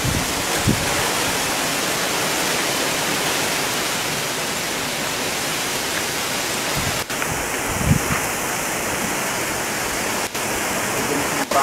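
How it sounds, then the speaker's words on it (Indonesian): Strong wind blows in a steady, loud rushing roar at a home in Pekalongan, with faint voices briefly underneath. "Wih, anginnya luar biasa."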